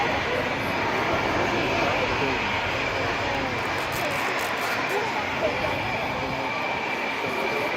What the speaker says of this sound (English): They are going to be putting the wheels down now and doing a low go around